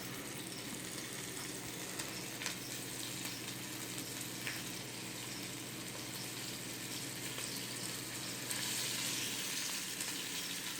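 Chicken pieces browning in an oiled pan for chicken broccoli Alfredo, giving a steady, close, continuous sizzle and crackle of hot fat with no talking throughout.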